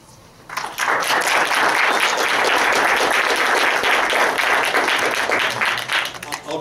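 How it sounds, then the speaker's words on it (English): An audience at a Sonoma County district attorney candidates' debate breaks into applause after a brief quiet moment, a dense, loud burst of clapping that holds steady for several seconds. "I'll try to go with the clapping a little bit, but if you can hold it down, it'll help our time."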